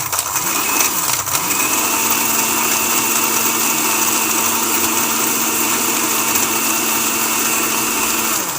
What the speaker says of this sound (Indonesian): Start the blender by pressing the speed button.